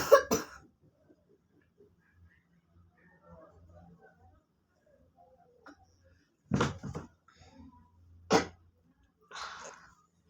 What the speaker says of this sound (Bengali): সবার ঠান্ডা লেগেছে, পাশের থেকে শুধু কাশির আওয়াজই শুনতে পাবে বন্ধুরা